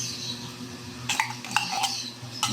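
Corned tuna being mixed in a pan with carrots and eggplant, giving a few short metallic scrapes and clinks of a utensil against the pan over a low background hum.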